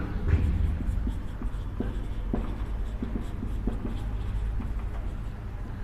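Marker strokes on a board while a maths equation is written out in a lesson: steady, close scratching and tapping strokes in an uneven rhythm that carries on throughout.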